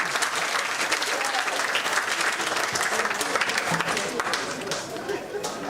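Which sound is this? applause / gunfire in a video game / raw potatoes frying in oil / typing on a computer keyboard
applause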